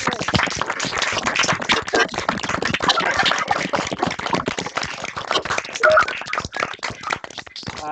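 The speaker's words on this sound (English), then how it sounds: "please give a big round of applause to Viv and Otham" Online meeting participants clap through unmuted microphones, giving dense, uneven clapping from several people at once with band-limited, compressed quality over eight seconds.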